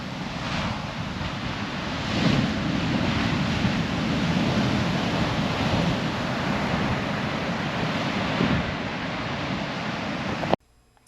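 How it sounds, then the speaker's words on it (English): Heavy surf pounds a secluded Molokai beach, a continuous loud roar of intense breaking waves with surges of crashing water and wind across the microphone, no voices, ending abruptly. "The waves are so intense and there's a big undertow thing"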